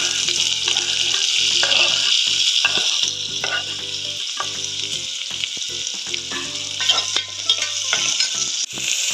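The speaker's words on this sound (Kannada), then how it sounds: "ಬಿಸಿ ಆದಮೇಲೆ ಆನಿಯನ್ ಆ್ಯಡ್ ಮಾಡ್ಕೊಳ್ಳೋಣ." Chopped onions fry in hot oil for a vegetable pulao, making a loud, continuous sizzle broken by repeated scraping and stirring strokes in the pan, with no talk.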